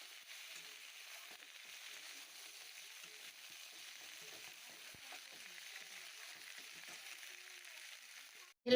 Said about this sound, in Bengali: তো বেগুন ভাজাটা ওখানে হচ্ছে